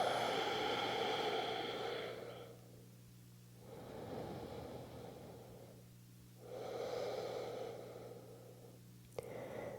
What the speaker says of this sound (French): Prends une grande inspiration par le nez. Gonfle le ventre. Ouvre la bouche et expire.